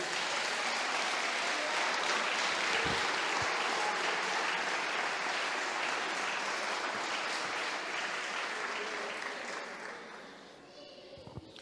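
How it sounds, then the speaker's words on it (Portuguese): A church congregation claps during a pastor's sermon. The sustained, even applause is heard from a little distance and fades out in the final seconds. "Pode aplaudir."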